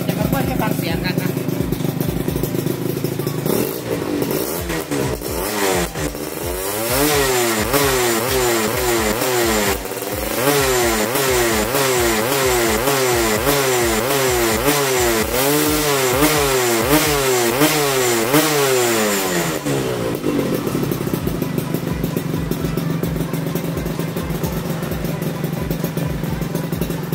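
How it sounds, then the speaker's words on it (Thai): A Honda Dash 125 motorcycle engine, freshly restored with a replaced carburetor, runs steadily close by, revving up and down in a rhythmic cycle mid-clip before settling back to a continuous, loud idle. "เครื่องเงียบๆประมาณนี้เลยจะมาเปิดให้ฟังเสียงกันนะ"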